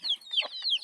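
Farm hens cluck in a short, close burst of a few sharp calls, loud and clear with no talking.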